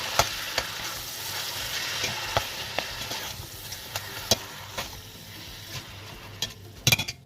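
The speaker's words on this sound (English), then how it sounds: "Once mince starts to cook, mix and smash it down with your spoon to turn it into smaller pieces." One kilogram of mutton mince with salt and ginger-garlic paste sizzles in a pan while a spoon stirs and smashes it, steady frying broken by sharp intermittent spoon knocks and scrapes.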